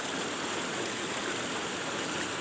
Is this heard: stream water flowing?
yes